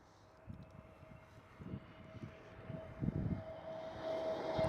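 An Airbus A320neo jet airliner at Amsterdam Schiphol airport, a faint, distant engine roar slowly building louder toward the end, with no talking.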